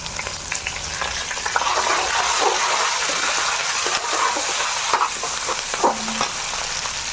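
Curry leaves frying in hot oil in a pan for carrot upma, a loud continuous sizzle and crackle with scraping stirring sounds throughout, close up.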